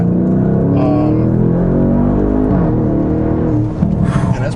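A 2016 Audi S6 pulling hard at partial throttle, its engine note climbing steadily and loud from up close before easing off near the end.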